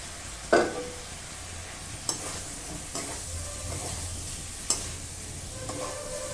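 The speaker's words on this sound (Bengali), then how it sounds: "কপিগুলো আমি দিয়ে দিলাম মশলাতে।" Cauliflower pieces go into hot spice mix in a pan for a cauliflower and soybean curry, giving a steady soft sizzle of frying, broken by a few sharp clinks of a spoon stirring against the pan.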